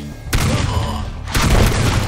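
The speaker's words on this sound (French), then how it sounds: "Ah, c'est un missile." A missile explodes in the video game Panic Factory: two heavy, booming blasts, the second louder than the first, each bursting in with a broad rumbling roar that carries straight through without a pause.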